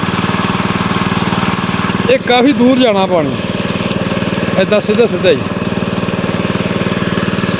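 A motor engine running steadily while irrigating a farm field, a close, continuous buzzing drone that carries on throughout as someone talks over it in two short stretches.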